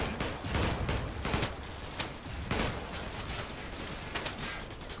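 Dense gunfire from the online shooter Zula, with overlapping rifle bursts and rapid automatic fire that carry on almost without pause, loud and close throughout.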